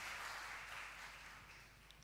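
An audience applauds a group of about 25 award-winning farmers at a farm ceremony, a faint, distant wash of clapping that slowly fades.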